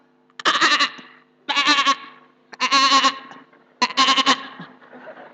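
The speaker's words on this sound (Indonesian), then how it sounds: "Tidak boleh juga potong kambing yang bersuara seperti ini." Four separate loud goat bleats, each a long wavering cry with short gaps between, close and clear with no talking over them.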